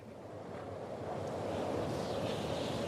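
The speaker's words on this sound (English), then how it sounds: "Ooh, it is windy up here." Wind gusts across a rooftop in The Last of Us Part II during a storm, a broad steady roar that slowly builds and whooshes without any voices.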